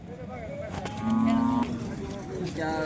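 Large cows low and moo at a rural cattle market selling cows and heifers, one long deep moo rising clearly over steady market chatter and voices nearby.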